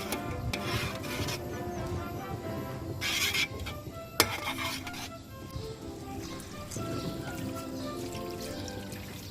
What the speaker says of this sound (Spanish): seguiremos añadiendo un poco más de agua hasta superar, como veis aquí, los tornillos de la paella